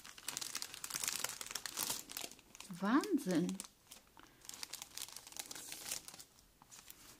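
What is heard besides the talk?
bags being handled and crinkling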